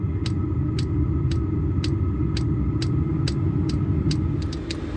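A VEVOR diesel heater fitted in an M35A2 truck ramps up, giving a steady low rumbling hum with a faint regular ticking pulse roughly twice a second, close and continuous.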